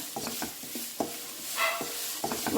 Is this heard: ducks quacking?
no